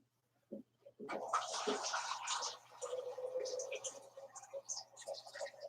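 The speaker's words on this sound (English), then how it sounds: "I probably should go fill my water." A tap runs as a water bottle is filled at home, a steady close hissing splash starting after a brief clunk and continuing for several seconds, with soft gurgling shifts as the vessel fills.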